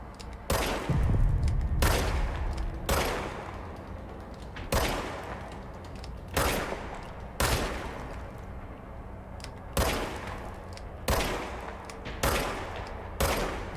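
Repeated gunfire from the service weapon in the video game Control, sharp loud shots coming in an irregular rhythm of single bursts with brief gaps, each followed by a short decaying tail.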